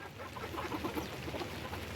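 Chickens clucking close by on a rainy day, a steady busy murmur of soft clucks with a low background rumble, no voices.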